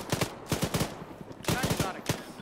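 Automatic weapons fire in rapid bursts in a military shooter video game, several sharp, loud volleys separated by brief pauses.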